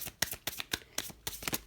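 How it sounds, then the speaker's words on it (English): Large oracle cards shuffle close by in quick riffling bursts, a steady run of crisp flicks with no talk. "I think they're easy to shuffle, which is important too."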